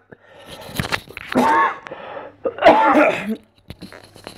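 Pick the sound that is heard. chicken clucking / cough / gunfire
cough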